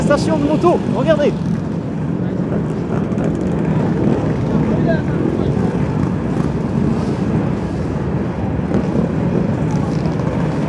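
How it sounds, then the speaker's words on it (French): A motorcycle parade passes through Times Square in New York, its engines a steady rumble mixed with busy street and crowd noise, with people talking over it throughout. "il y a une manifestation de moto"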